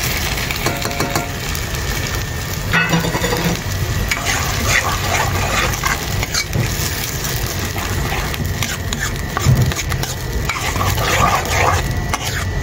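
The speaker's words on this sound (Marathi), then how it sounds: "तर ह्याच्यात आपण टोमॅटोची, याच्यात तांबाट्याची ग्रेव्ही टाकूया।" Tomato gravy cooking in a pan for a Maharashtrian fish curry, a loud continuous bubbling sizzle with stirring noise throughout, close and dense, with no speech over it.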